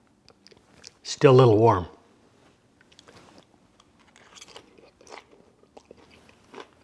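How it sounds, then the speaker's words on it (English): Crunchy sauteed green beans with garlic and toasted almonds are bitten and chewed, a short spoken remark first, then soft, close crunching and chewing noises in a quiet room. "Still very crunchy, just like you'd expect from fresh green beans."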